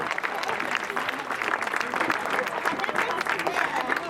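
Steady, dense applause from a crowd at a show-jumping prize-giving ceremony, continuous and fairly close, with a hint of voices mixed into the clapping.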